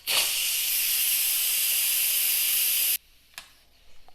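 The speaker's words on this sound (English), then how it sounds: "Let's release this pressure." An Instant Pot vents pressure after cooking broccoli, letting out a loud, steady hiss of steam that cuts off abruptly after about three seconds. A faint click and soft handling noises follow.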